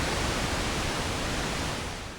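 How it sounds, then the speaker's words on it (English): Pink noise from a Softube Model 72 synthesizer, a darker, fuller hiss than white noise, held steady and alone before tapering slightly at the end. "And we have pink noise."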